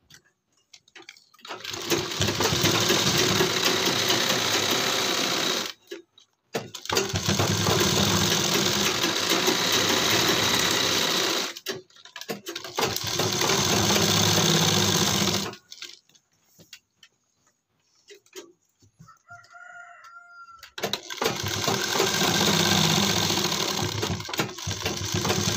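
An electric sewing machine runs in several long, steady stitching bursts while sewing down a kurti collar, close and loud, separated by short pauses; no talking.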